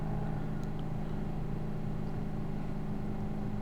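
A manual car's engine in BeamNG Drive holds a steady, droning hum with constant harmonic tones throughout, continuous and close, with no talking.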